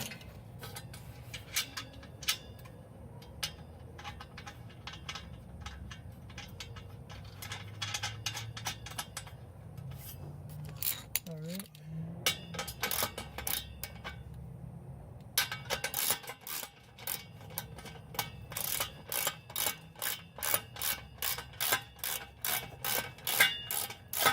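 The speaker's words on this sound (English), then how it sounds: "All right, now I just gotta thread the last one." Header bolts being threaded and tightened on a Honda Del Sol, a steady run of close metallic ticking and ratcheting clicks that grows denser and louder toward the end, with no talking.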